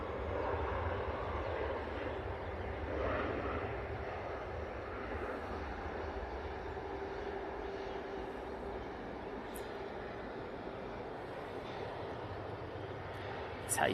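A Virgin Atlantic airliner taxiing toward its stand rumbles as a steady, moderately distant jet engine drone, with faint clicks near the end.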